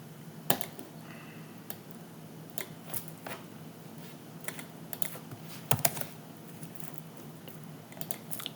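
Fingers tap out initials on a computer keyboard in short, quiet bursts of clicks with pauses between, a few sharper keystrokes standing out, close and otherwise near-silent.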